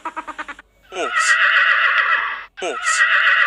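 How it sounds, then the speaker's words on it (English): A horse whinnies loudly twice in a row, each long neigh with a shaky rising start, preceded by a brief rapid snorting burst, alone and close with no other sounds. "Horse."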